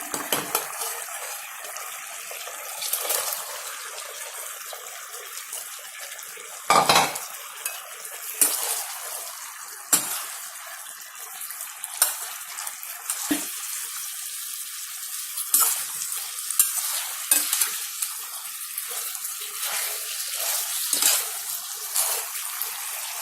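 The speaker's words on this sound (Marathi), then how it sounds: "आता आपण याच्यात चिकनचे पीसेस टाकणार आहे." Chicken pieces stirred through a ready sauce in a pan, a steady soft sizzle with intermittent spoon scrapes and clinks against the pan.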